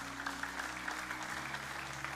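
A church congregation claps together in a sustained burst of applause, moderately distant and steady over low background hum.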